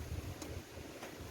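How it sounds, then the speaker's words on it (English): Strong gusting wind buffets the microphone outdoors in a garden, a steady low rumble with broadband gusts swelling and easing throughout. "this wind is getting really strong now"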